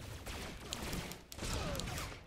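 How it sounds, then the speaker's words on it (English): Rapid, sweeping bursts of gunfire in the game Star Wars: The Old Republic rattle continuously with crackling impacts, loud and close, with a brief dip midway. "Sweeping gunfire!"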